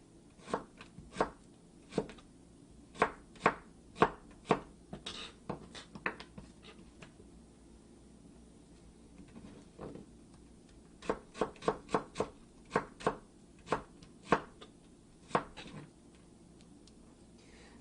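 A knife julienning vegetables on a cutting board, crisp close taps in quick irregular runs, a pause in the middle, then another rapid run of cuts.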